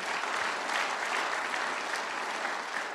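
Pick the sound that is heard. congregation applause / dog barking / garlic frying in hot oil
congregation applause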